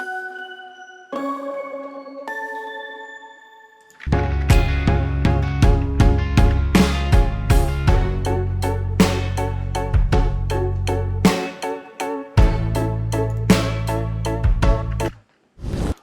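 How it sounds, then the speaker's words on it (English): Synth sound in the second chorus of a song, first alone as sustained tones, then joined by heavy drums, bass and punchy full-band hits, loud and dense, briefly dropping out near the end. "we have this synth sound happening here"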